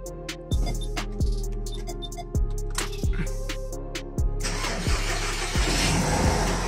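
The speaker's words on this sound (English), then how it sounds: "let me try to start up the car." A VW Golf/Jetta Mk5 engine cranks with rhythmic starter pulses for several seconds, then catches and fires into a loud, steady idle, recorded up close with no talking.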